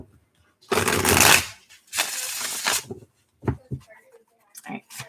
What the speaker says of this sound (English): this is going to be your last shuffle